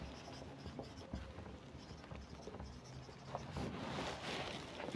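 Steady scratching of writing on paper or a board during an addition lesson, close and quiet, with no talk.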